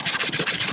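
A brush scrapes and scores old silicone sealant on a metal roof seam in quick back-and-forth strokes, close rhythmic rasping rubs with no voices.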